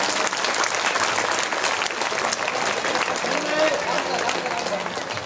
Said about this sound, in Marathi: छोट्या मुलांसाठी सर्वांनी टाळ्या वाजवाव्या